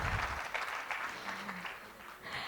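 Applause from an audience at a formal speech event on UK–Bangladesh relations, with steady clapping across the whole span and a lift in intensity near the end.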